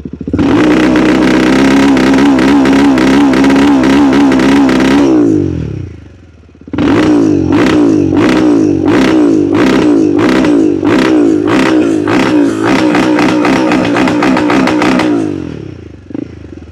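A Royal Enfield Himalayan 450 with an AEW exhaust and no dB killer revs hard and loud, close by. It gives a long sustained rev, dips briefly, then fires a run of sharp repeated throttle blips before settling.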